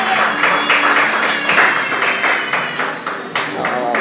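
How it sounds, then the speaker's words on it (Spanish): A church congregation claps and applauds together in a steady, dense wash of hands, loud and sustained throughout with no voices speaking over it. "Denle un aplauso a Él."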